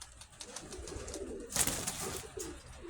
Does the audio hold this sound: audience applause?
no